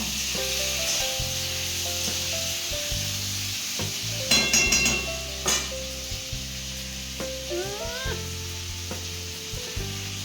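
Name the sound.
potatoes added to pan and frying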